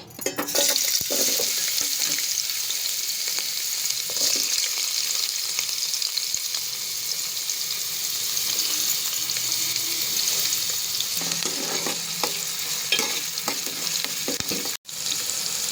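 Onions frying in hot oil produce a loud, steady sizzle and crackle that lasts throughout, with occasional stirring scrapes and a sharp knock near the end, close and without voices.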